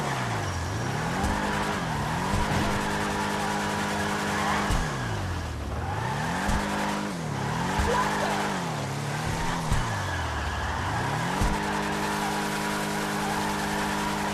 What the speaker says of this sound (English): Just sit there spinning like you would in a standard muscle car in the rain.